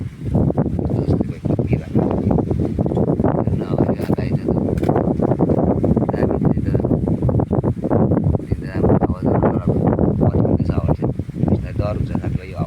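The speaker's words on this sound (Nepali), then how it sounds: "त्यहाँदेखि फेरि हावा सुरु भयो" Gusty wind rising again after a brief sudden shower on a sunny day, roaring steadily into the microphone as loud buffeting noise with a voice talking over it.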